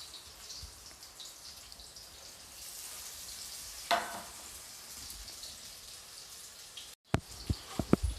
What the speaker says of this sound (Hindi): फिर मैं इसे अच्छी तरीके से फ्राई होने दूंगी।